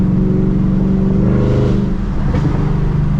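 A V8 sports car engine drones and whines steadily from inside the car as it accelerates slowly, loud and continuous with no talking over it.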